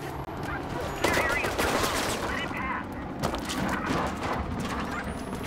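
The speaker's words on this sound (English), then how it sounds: "I don't know who's shooting at me, but" Sustained automatic gunfire and bursts in the parkour game Mirror's Edge Catalyst, loud and dense across the whole stretch with crashing impacts mixed in, while a voice talks over it.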